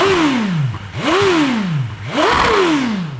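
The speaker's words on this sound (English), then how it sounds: "Let's give the motorbike a shot" A BMW S1000RR sport bike engine revving hard in three sharp blips, each rising fast then falling away, loud and close, with no talking over it.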